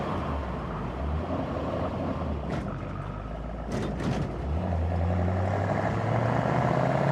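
A 1967 Ford Mustang K-code high-performance V8 driving over rough railroad tracks, steady engine rumble with a few sharp clunks and rattles midway, then a deepening tone as the engine pulls harder, heard from inside the car with no talking.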